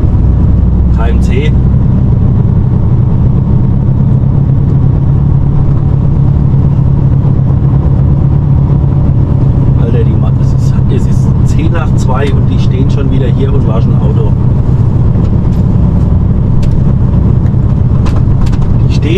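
A car engine runs steadily at close range, a loud constant low rumble for the whole stretch, with faint clatter and people talking over it.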